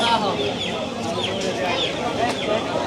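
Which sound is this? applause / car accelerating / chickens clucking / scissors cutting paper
chickens clucking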